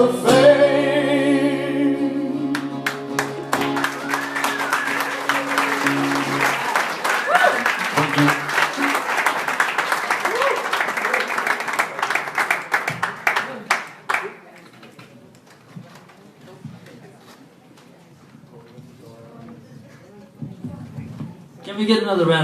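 An audience claps at a wake with live music, beginning under a sung melody and backing instruments, then thinning to scattered claps and quiet room murmur before voices return.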